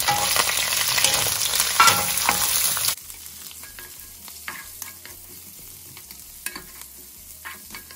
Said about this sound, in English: Next goes in 2 onions that I have thinly sliced, and I'm going to just soften these up first